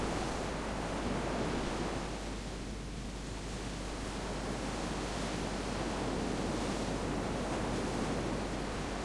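Wind rushes steadily over the sea while a ship sails in the video game Grandia 2, a broad, constant wash of noise with no voices over it.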